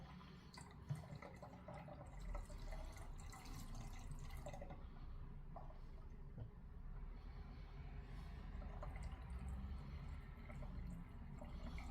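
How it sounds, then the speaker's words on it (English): Water poured to top up a demijohn of mead made with orange juice, a steady close trickle and drip of liquid running for the whole stretch without any talk. "And the rest I'm just going to top up with water."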